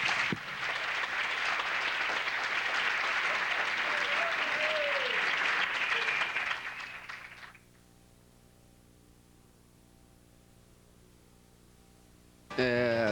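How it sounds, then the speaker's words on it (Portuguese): Audience applause after an architecture lecture in a hall, a steady loud wash of clapping for several seconds that fades out, leaving quiet room hum before a brief sound at the end. "peço uma salva de palmas"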